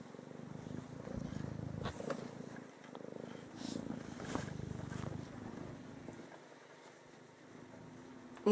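A cat purrs softly and steadily close by, its low rumbling pulsing on with each breath, quieting near the end.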